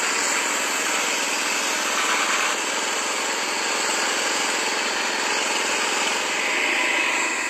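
Two motors on a homemade sawmill, one driving the saw and one the carriage, run at a steady, loud, buzzing idle close by without pause, with no talking.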